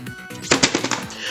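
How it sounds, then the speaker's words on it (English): The Fury, a rapid-fire weapon in Fortnite, lets off a quick burst of about half a dozen sharp gunshots in close succession, loud and near, followed by a brief lull. "the Fury is actually not bad, surprisingly. It does a lot of damage, it has a good fire rate, and it's decent at range"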